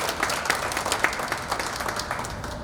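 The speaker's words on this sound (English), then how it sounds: "Give them a big round of applause." An audience at a BNI chapter meeting applauds to welcome visitors, a steady wash of many hands clapping at moderate level with no talk over it.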